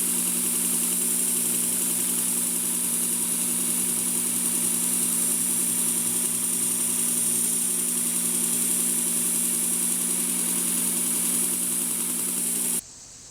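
A Worksharp blade grinding attachment runs steadily while grinding a knife blade, producing a loud, continuous motor whine with a constant tone that cuts off abruptly at the end, with no talking.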